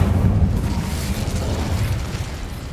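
Incendio, a fire spell in the video game Hogwarts Legacy, is cast as a heavy, rumbling whoosh with a deep boom at the start that fades slowly over a few seconds.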